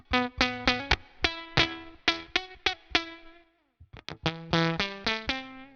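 Electric guitar through an EHX Germanium overdrive pedal with spluttery, crushy fuzz: repeated picked notes and chords, a brief gap, then more strummed hits, close and distorted.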